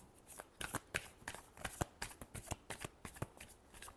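Tarot cards are shuffled close up in quick, papery bursts of riffling and slapping that repeat rapidly and irregularly throughout, with no talking.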